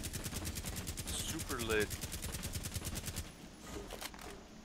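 Rapid automatic gunfire from a Rainbow Six Siege match on the Kafe Dostoyevsky map, loud and close, rattling steadily for about three seconds and then breaking into a few scattered shots, with a player's voice speaking briefly over it.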